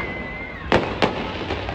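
Firecrackers go off during a family 15 August celebration: two sharp, close bangs about a third of a second apart over a steady hissing, crackling background, with a thin whistling tone fading out before the first blast.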